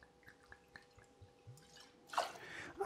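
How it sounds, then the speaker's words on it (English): Two ounces of East London Liquor Company gin poured into a French Pearl cocktail: a few soft drips, then a short, close liquid splash and trickle at the end, with no talking. "We're going to add 2 ounces of gin."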